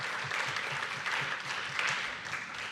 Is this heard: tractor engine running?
no